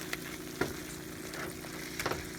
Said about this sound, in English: just mix in the cheese, stir and stir